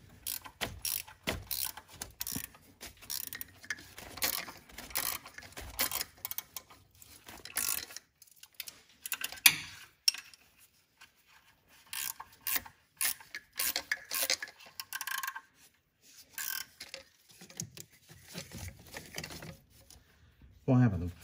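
Ratchet clicking in bursts while bolts are snugged up on a Ford F-150 4.6 3V exhaust manifold, close and intermittent with pauses between runs of rapid ticks.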